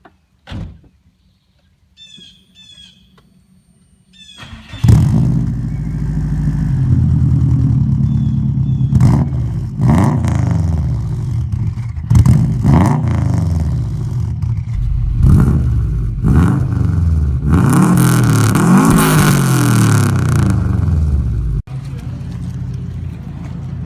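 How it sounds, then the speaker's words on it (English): A catless turbo-back exhaust with a small free-flowing muffler on a Subaru STI cold-starts with a burst into a loud, steady rumbling idle and several sharp revs. A voice talks briefly near the start. "Here's cold start, full turbo back catless with this tiny muffler."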